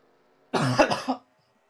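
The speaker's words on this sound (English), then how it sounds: "Oh, we can't forget about my coughing either." A commentator lets out a single short cough, a rough burst with a couple of quick pulses, close to the microphone and followed by silence.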